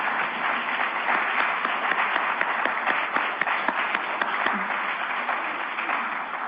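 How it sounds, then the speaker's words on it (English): Steady applause from a meeting audience fills the whole stretch, a dense even patter of many hands clapping at once without a break. "So let's give them a round of applause,"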